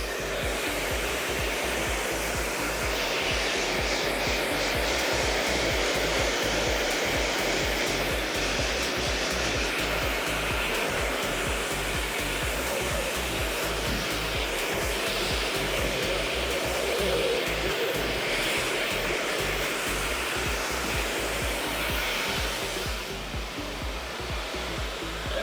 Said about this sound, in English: we can use 2 blow dryers if you guys want it.